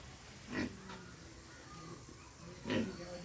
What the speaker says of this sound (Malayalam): പന്നി